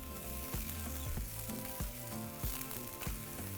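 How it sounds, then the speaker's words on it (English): A tortilla blistering in a hot pan gives off a steady, faint sizzle and crackle, continuous through the stretch with soft background hum and no talking. "So we're just going to wait for that tortilla to blister and then flip it over."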